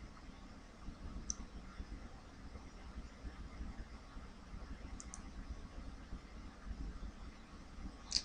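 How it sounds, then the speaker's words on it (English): A computer mouse clicks a few times, faint and close, as a checkbox is ticked and a setting saved in phone-system admin software, with a quiet hum of background noise between clicks. "click on the checkbox next for voicemail usage, and then click save"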